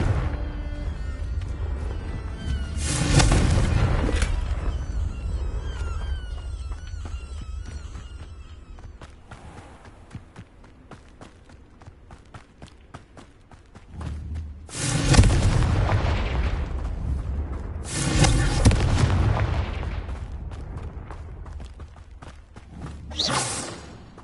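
Repeated Confringo fire spell blasts in the Hogwarts Legacy video game, loud booming explosions with whooshing tails arriving at intervals, with footsteps and quieter stretches in between.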